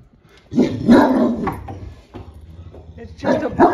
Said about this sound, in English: Shh, don't bark.